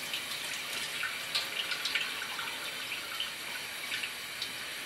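Used fixer poured from a film developing tank into a sink makes a steady splashing trickle with small spattering bursts, close and continuous, with no talking.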